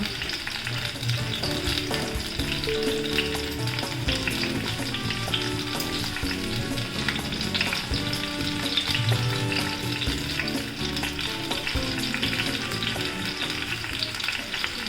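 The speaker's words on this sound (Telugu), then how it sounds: "వన్ టేబుల్ స్పూన్ ఆయిల్ వేసి ఆయిల్ హీట్ అయిన తర్వాత టమాటాలు కొత్తిమీర కాడలు" Tomatoes and coriander stems frying in a tablespoon of hot oil give a continuous crackling sizzle close by, with occasional stirring knocks, and no one speaks.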